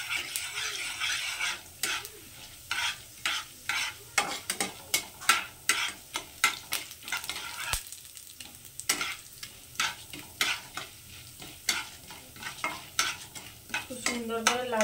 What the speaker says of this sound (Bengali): সেই ডাল দুটোকেও দিয়ে দিচ্ছি। এগুলোকে একটু লাল করে ভেজে নেব।